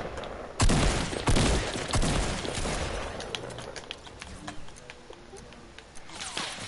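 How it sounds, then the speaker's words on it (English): Video game gunfire aimed at the player: a burst of sharp, loud shots early on, then scattered cracks thinning out amid background game noise. "someone's shooting me"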